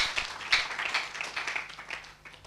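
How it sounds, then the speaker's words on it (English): A church congregation claps together in a steady, moderately distant round of applause that lasts a couple of seconds in a reverberant hall. "And we clap for the Lord."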